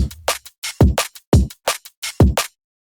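Punchy synthetic drums play a sparse, regular beat, with deep kicks alternating with bright, snappy hits, then stop.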